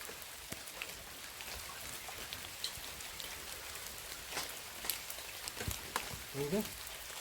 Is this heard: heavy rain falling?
yes